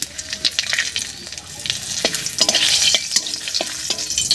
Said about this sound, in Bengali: এবার এই মাছ ভাজার তেলের মধ্যেই ফোড়ন দেব, আর ফোড়ন দেব গোটা জিরা আর 2টো তেজপাতা দিয়ে।